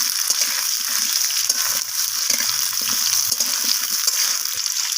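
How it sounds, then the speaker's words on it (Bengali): Potato pieces fry in oil with a five-spice tempering, producing a constant close sizzle with soft stirring scrapes and low clatter underneath, no voices. "তো এরপর আমি ফোড়নের সাথে আলুগুলোকে একটু লালচে করে ভাজা"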